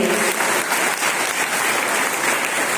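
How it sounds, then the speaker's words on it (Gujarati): A crowd claps for a medal winner at an athletics competition prize distribution, dense, steady applause of many hands, fairly loud and continuous for the whole stretch. "બેને તાળીથી વધાવી દઈશું આપણે"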